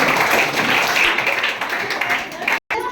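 Children clap together throughout a quiz at a summer camp, a dense, continuous patter of many small hands that runs steadily for several seconds before cutting off abruptly near the end.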